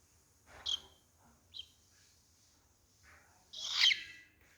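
A small cockatiel parrot indoors lets out a few short, shrill calls: two brief chirps close together, then a louder, longer squawk after a pause, against a quiet room.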